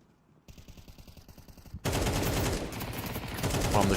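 Gunfire sprays in the shooter game Counter-Strike, starting with a quieter rapid burst of shots, then a sudden loud, dense stream of automatic fire that continues to the end with no talking.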